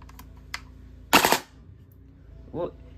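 An airsoft AEG with a Double Eagle MOSFET fires one quick three-round burst, a short close rattle of shots, with faint handling clicks before and after.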